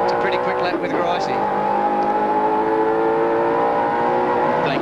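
A touring race car engine at Bathurst in 1990, loud and steady with sustained high revs and shifting harmonics as it downshifts and climbs, with commentary over the top throughout.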